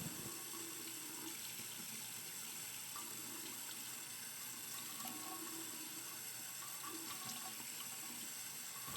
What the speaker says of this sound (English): you can see how I cup a little bit of water in my hand and let it roll down my forearm.